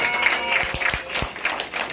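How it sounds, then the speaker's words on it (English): An audience claps in a short burst of scattered applause, with a few sharper individual claps standing out under the crowd. "And to Assembly Member Benjamin, a round of applause, who's doing a great job."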